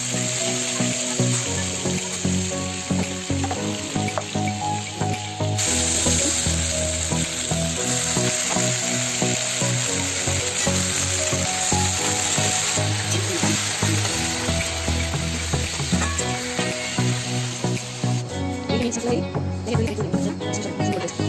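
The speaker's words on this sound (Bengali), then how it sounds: "চিংড়ি মাছের মশলাটা ছেড়ে দিয়েছিলাম আমি, ওটা কষছে।" Shrimp spice paste fries in a pan in a steady, loud sizzle that runs the whole time, with stirring scrapes and faint tap water or sink sounds near the end.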